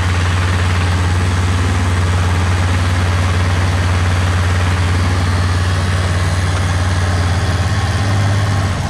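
A Yamaha XT600 motorcycle engine idles steadily and close by while warming up after starting, a continuous low rumble with an even pulse and no other sounds.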